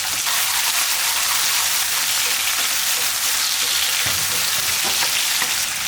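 About ten finely chopped small shallots drop into hot oil for a tomato kurma and fry with a loud, dense, continuous sizzle close by, steady throughout with a couple of faint clinks, no speech.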